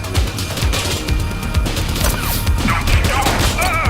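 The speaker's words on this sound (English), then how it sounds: "She's shooting! Shots fired!" Rapid gunshots during a police shootout in The Precinct, loud repeated cracks in a dense, irregular volley with faint shouting voices mixed in.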